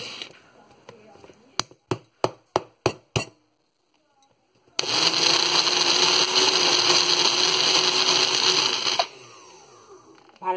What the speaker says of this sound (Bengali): এখন আমি এটাকে ব্লেন্ড করে নিব